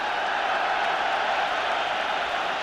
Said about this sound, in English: They're baying for Whiteside as early as this in the game.